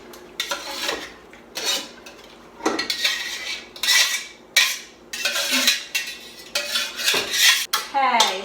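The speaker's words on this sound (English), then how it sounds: "I'm going to dump them into this pot." Sliced cucumbers and onions for bread and butter pickles are tipped into a cooking pot, giving a series of loud clattering, scraping bursts at a steady, close pace with no talking.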